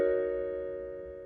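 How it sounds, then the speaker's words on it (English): A single sustained synth or keyboard chord from the "Womanizer" bassline, heard without its half-diminished voicing, holding steady and slowly fading, alone with no talk. "Without the half diminished chord, it sounds like this."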